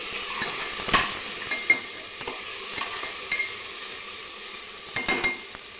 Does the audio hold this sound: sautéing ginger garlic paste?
yes